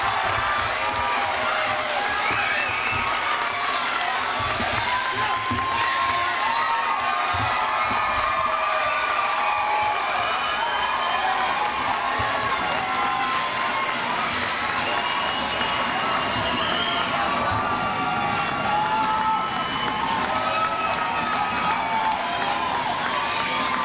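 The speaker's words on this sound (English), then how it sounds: "please join me in a round of applause to celebrate the success of the 2012 Westmont Junior High School" A crowd fills a 2012 Westmont Junior High School graduation with sustained applause and cheering, dense clapping steady throughout with scattered shouts and children's voices mixed in.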